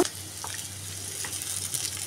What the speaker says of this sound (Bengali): সুন্দর করে পেঁয়াজ রসুন কুচি আমি এখন ভাজে নেব।